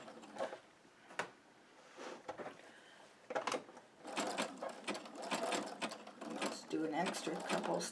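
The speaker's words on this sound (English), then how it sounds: "Do an extra couple stitches here at the end, stop on the outside, pivot, and come on and get it" A sewing machine stitches an in-the-hoop embroidered postcard with yarn in short bursts of rapid mechanical chatter that stop, restart and grow busier toward the end.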